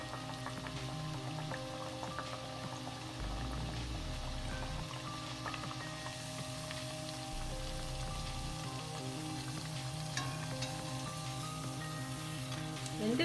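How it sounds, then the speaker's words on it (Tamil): Adhirasam dough sizzles steadily in hot oil, a continuous crackling hiss with tiny popping bubbles, close and even throughout. "எடுத்து எண்ணெயில் போடுவோம். போட்ட உடனே அது வெந்து மேலே வரும்."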